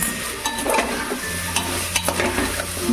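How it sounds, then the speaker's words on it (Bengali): Spices for a green-pea kachori filling being stirred in a hot frying pan, with steady sizzling and frying under repeated scraping and clinking of a spoon against the pan, close up and with no voices. "একটু নাড়াচাড়া করে নেবো।"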